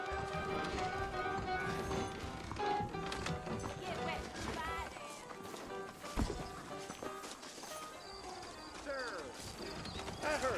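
Horses in the video game Red Dead Redemption clip-clop along in a steady rhythm, mixed under game music and voices throughout.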